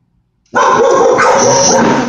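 Household dogs from a home with five dogs break suddenly into loud, close, continuous barking and yipping that overlaps into a dense chorus after a brief silence.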